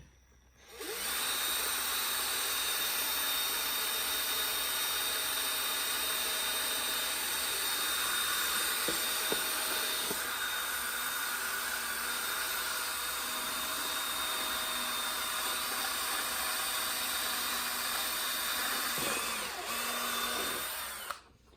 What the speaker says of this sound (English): She's drilling a hole about